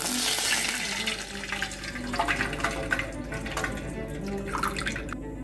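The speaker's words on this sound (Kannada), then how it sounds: "ನಾನು ನೀರು ಹಾಕ್ತಾ ಇದ್ದೀನಿ ಒಂದು ಕಪ್ಪಾಗುವಷ್ಟು ಆಗುವಷ್ಟು" Water is poured into a pan on a gas stove while making fenugreek rasam, giving a continuous splashing gurgle with small drips and sizzling at close range, and no talk.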